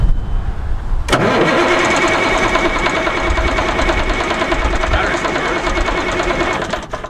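The diesel engine of a wrecked Peterbilt 379 semi truck that had rolled onto its side cranks and catches abruptly after a second of quiet, then settles into a loud, clattering, continuous run close by.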